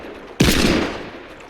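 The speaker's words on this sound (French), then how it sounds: "C'est un pistolet arc-en-ciel." A rainbow pistol fires in a video game, a single loud sharp shot with a booming burst that rings out and slowly decays.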